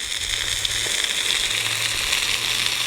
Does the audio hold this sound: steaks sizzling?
yes